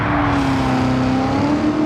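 Red Devil Camaro race car built by Stielow Engineering, held in third gear on a racing circuit: a loud, steady engine drone close up, its pitch holding nearly level with a slight dip near the end.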